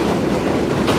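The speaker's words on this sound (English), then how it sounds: "That's the one train." A New York City subway 1 train in the Bronx rumbles past, a loud, steady close roar of rolling wheels and cars filling the moment with no talk.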